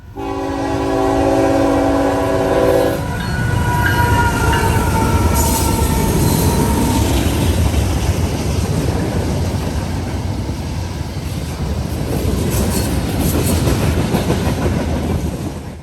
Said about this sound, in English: we moved up to Union Road for eastbound NS train 170, daily Chattanooga, Tennessee to Conway, Pennsylvania manifest, with an ET44AC leading